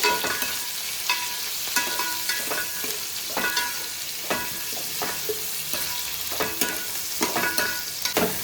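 A masala with green chillies and fresh coriander leaves fries in a pan, a steady bright sizzle broken by frequent scraping strokes and spoon taps throughout, close and fairly loud with no voices.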